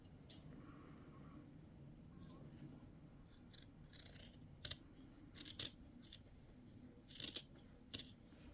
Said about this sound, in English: I think I have more control over it using the scissors.